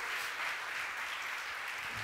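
A church congregation at a Sunday service claps together in a brief, steady wash of applause, even and fairly distant, with no talking over it.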